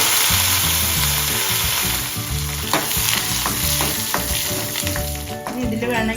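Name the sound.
shallots and curry leaves frying with fenugreek in oil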